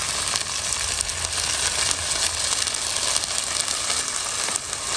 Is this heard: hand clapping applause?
no